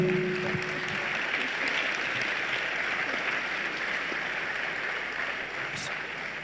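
Steady, dense clapping from a summit audience fills the whole stretch, a broad wash of applause that holds fairly even and tapers slightly toward the end, with a faint tone at the start.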